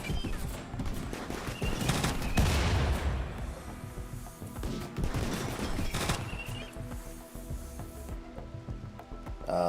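Gunfire rattles in the colony-building video game Rimworld, with bursts of shots swelling around a couple of points amid a busy, layered game soundscape. The volume is moderate and no one speaks.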